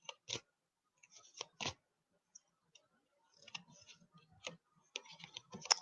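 Tarot cards are shuffled close by in quick, crisp flicks and riffles, separated by short pauses of near silence.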